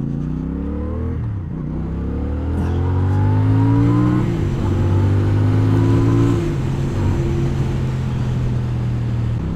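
A CF Moto 450CL-C motorcycle accelerates hard, its engine note climbing through the revs, dropping at each gear change, then rising again in a loud, close, continuous pull.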